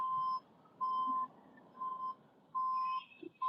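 Evenly spaced electronic vehicle reversing beeps repeat at a steady rhythm, each a single high tone, fairly quiet with faint background noise between them.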